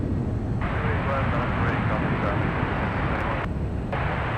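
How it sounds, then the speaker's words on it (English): A United Boeing 737 airliner landing at San Francisco airport: a broad, steady engine roar that fills the whole clip, heard from a distance outdoors, with someone talking over it. "737 United coming in."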